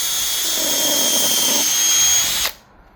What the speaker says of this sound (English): Now we're going to pre-drill. We're going to pre-drill to the back of the hole and at a slight angle.